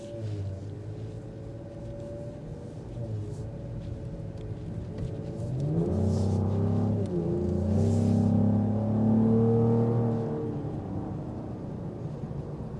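A 2025 Cadillac CT5-V accelerates with a low, rising engine drone that swells in the middle and eases back, heard from inside the car under light road rumble, with no talking.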